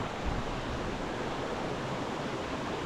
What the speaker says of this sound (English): I don't know if you can hear me over this beautiful rushing water.